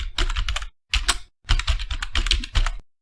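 Fast typing on a computer keyboard, crisp close-up clicks in four dense bursts separated by short pauses, with no voices.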